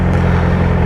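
A supercharged Z01 car engine gives a loud, steady, close-up droning hum with no voices, lasting under a second.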